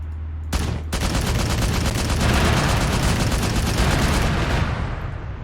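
A big gun in the military game ARMA 3 fires rounds in a loud, rapid, sustained barrage of heavy booming shots after a brief opening blast.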